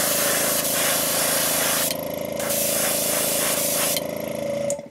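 White paint hisses steadily from a spray gun across a fishing lure, a loud continuous airy spray with brief pauses near the middle and end, over a faint low hum.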